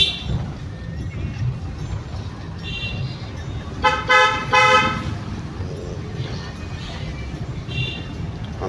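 A car horn honks in two short close blasts while driving on a road near a lane entrance, over a low steady engine and road hum.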